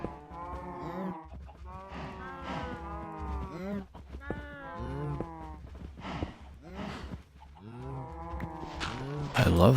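Cows in the video game Minecraft moo repeatedly, several overlapping drawn-out calls in close succession, fairly quiet and close, with no talk over them.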